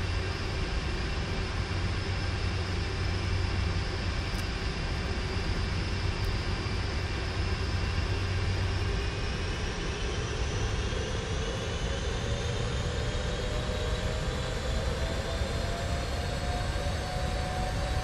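PMDG 747-400 V3 jet engines on runway 26 left in a flight simulator: a steady, loud turbine roar with rising whine tones spooling up as thrust builds, continuous and without talk.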